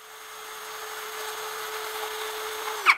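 Miyota D8216c cordless impact drill spinning at high speed, a steady high-pitched motor whine that holds constant for almost three seconds before winding down with a small click at the end, heard close up with no talk.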